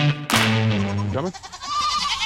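Goats on a farm bleat loudly and close by in a long wavering call that rises and breaks off, followed by quieter farmyard background noise.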